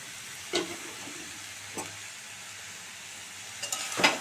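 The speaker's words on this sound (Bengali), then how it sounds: "নেড়ে দেব।" A cabbage curry cooked with hilsa fish heads is stirred in a pan, giving a few scraping strokes and soft clinks over a low sizzle, with a louder scrape at the end.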